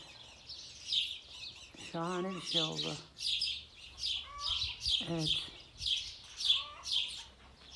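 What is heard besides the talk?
swallows chirping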